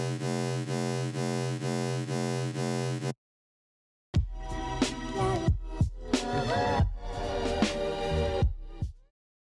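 A bass patch built in the Serum synth: a dense, buzzing sustained tone with a regular pulse, then a second of silence, then choppy, gritty bass hits that trail off.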